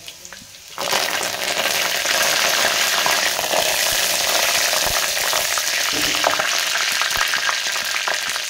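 Curry leaves dropped into hot oil burst into a loud, continuous sizzle and crackle that starts abruptly and holds steady throughout, close and dominant, no voices.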